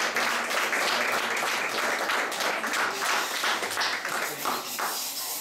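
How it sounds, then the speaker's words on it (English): An audience applauds volunteers at an appreciation event, with steady, dense clapping from many hands that stays loud and continuous throughout, with no talking over it. "give her a big round of applause"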